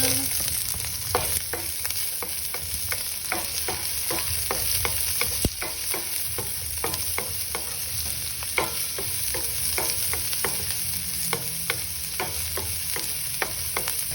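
Onions frying in a pan for pork asado, with a steady sizzle running throughout and a regular series of sharp spatula scrapes and stirs over it, close and fairly loud.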